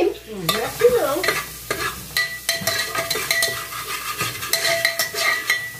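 Turkey neck sizzles and fries in a pan with garlic while a utensil stirs and scrapes against the metal in repeated clatters, close and fairly loud, with no talking.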